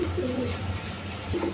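King pigeons cooing in a loft, a steady run of low, throaty coos close by with a brief pause near the middle before the calling picks up again.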